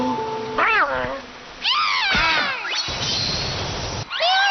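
Several cartoon cat meows, high and wavering, come in separate calls across the clip, loud and close, with a person talking in between.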